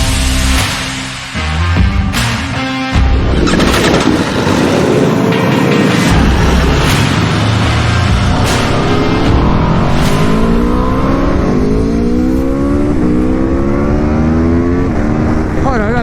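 A 2021 Aprilia RSV4 Factory 1100 motorcycle engine accelerating hard, loud and close, pitch climbing through several rising sweeps separated by brief gear-change dips, with a voice speaking faintly in the background.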